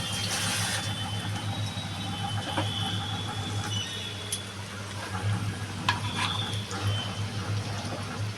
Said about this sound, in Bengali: এবার ভালো করে নাড়াচাড়া দিয়ে ঢেকে দেবো।